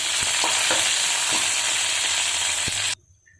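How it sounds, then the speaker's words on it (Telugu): Chana dal, urad dal, cumin, curry leaves and dry red chillies fry in hot oil for a chutney tempering, a loud close sizzle with a few sharp spatula taps, cutting off abruptly near the end. "కొంచెం పచ్చిశనగపప్పు, కొంచెం జీలకర్ర, కరివేపాకు, ఎండుమిర్చి బాగా ఫ్రై చేసుకోవాలి."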